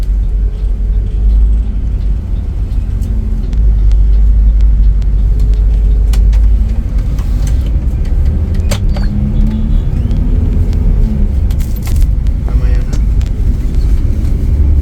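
Big M Trans Royal Sultan coach bus pulling out of a garage onto the road in Denpasar, a steady low engine rumble and road noise throughout with occasional rattles and clicks.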